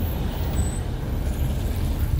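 Steady road traffic at a busy intersection beside construction works, a constant low rumble of engines and passing vehicles with a brief air brake hiss, fairly close and unbroken throughout.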